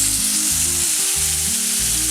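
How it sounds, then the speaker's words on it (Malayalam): Ground coconut paste and small onions sizzle loudly in a pan as water goes in. The hiss is dense and continuous over a short stretch, with no voices. "ഇതിലേക്ക് കുറച്ച് വെള്ളം ഒഴിച്ചു കൊടുക്കാം."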